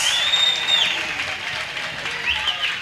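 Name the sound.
audience applauding electrical engineering diploma graduates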